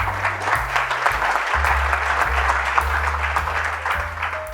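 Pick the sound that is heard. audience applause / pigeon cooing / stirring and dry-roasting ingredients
audience applause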